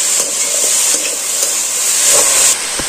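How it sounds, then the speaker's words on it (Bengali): A spiced potato mixture with cumin powder, salt and sugar stirred in a hot pan, with a loud, continuous sizzling hiss and faint scrapes of the spoon running through it. "আবার এটাকে আমি নাড়াচাড়া করে নেব"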